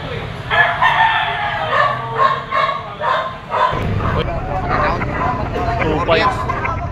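A young gamecock crows among other fowl at a rooster market, with a dog barking nearby and people talking over the birds throughout.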